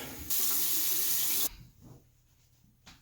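Running tap water rinses a Merkur MK-23C closed comb safety razor at a sink, a steady loud rush of water lasting just over a second before cutting off, followed by faint clinks and drips.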